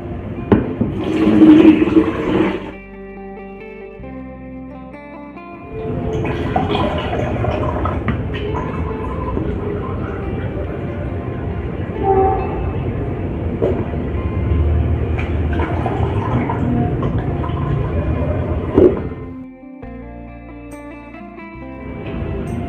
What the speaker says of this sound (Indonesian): untuk memisahkan antara ampas beras ketannya ini dengan airnya, dengan cara disaring begini